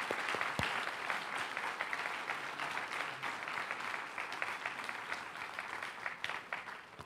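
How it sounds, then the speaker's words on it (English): A final round of applause for students at a school board meeting, many people clapping steadily for several seconds at moderate volume with scattered sharper claps. "Let's give a final round of applause for all of our students"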